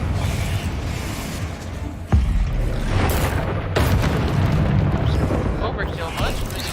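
A Confringo fire spell explodes in a Hogwarts-style video game. A sharp boom hits about two seconds in, and a second blast follows later. Both sit over a dense, rumbling game soundscape with creaking mechanisms.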